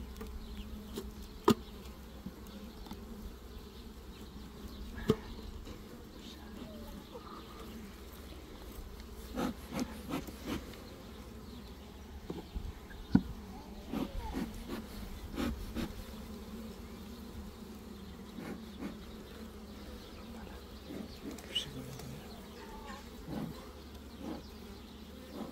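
Honey bees hum in a soft, steady drone around hive frames being rearranged as a second storey is added, with occasional faint wooden knocks and clicks throughout.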